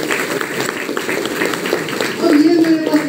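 Audience applause at a motivational business meeting, a rapid patter of claps heard under a man's loud speech, the clapping continuing throughout.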